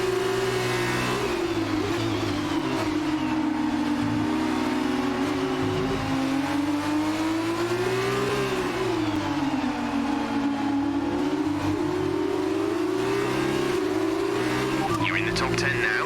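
Formula 1 race car engines in F1 2019 drone and wail continuously, pitch rising and falling with gear changes as the cars run steadily close by, with a voice talking over them throughout.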